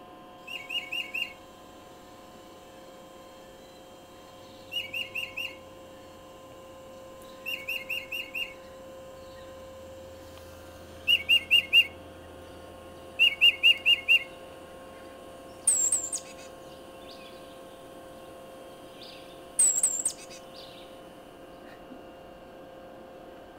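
Recorded birdsong played from a laptop: repeated short bursts of chirps and whistled notes come in evenly spaced phrases every few seconds, fairly faint, over a steady low room hum.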